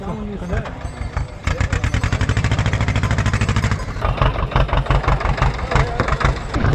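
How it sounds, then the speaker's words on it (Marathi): A tractor engine idles close by on a mountain trek route near Kedarnath, a steady rhythmic chugging that grows louder and denser after a brief quieter opening, with a voice heard over it. "ट्रॅक्टर आणलाय मी"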